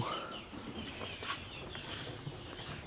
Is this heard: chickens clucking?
yes